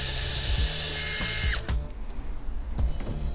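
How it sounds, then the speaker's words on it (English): A drill runs at high pitch for about a second and a half reaming out a hole in a motorcycle fairing, then winds down, followed by low knocks and handling thuds. "we're gonna ream it out just a little bit with the drill"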